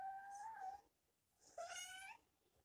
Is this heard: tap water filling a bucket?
no